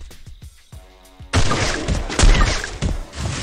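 A loud burst of gunfire erupts after a few soft thumps, rattling on with sharp cracks and a dense, crashing texture.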